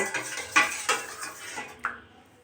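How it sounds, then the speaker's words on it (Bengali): A rice flour and flour mix is stirred into boiling water in a pot to make dough for chushi pitha. A spoon clanks and scrapes against the pot several times in an uneven rhythm, close and moderately loud, with no talking. "এই যে মিশানো চালের গুঁড়া আর ময়দাটা গরম জলের ভিতর দিয়ে নেড়ে চেড়ে একটা ডো বানিয়ে নেব"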